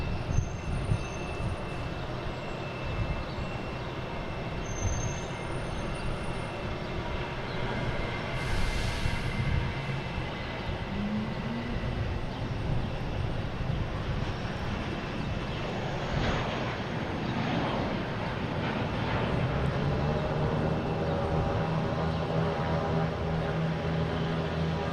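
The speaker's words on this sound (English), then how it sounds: "we have a JetBlue taking off, hitting the West Palm Beach" A JetBlue airliner takes off at Boston Logan bound for West Palm Beach, giving a loud, continuous broadband jet roar that holds steady for the whole stretch, with no talk over it.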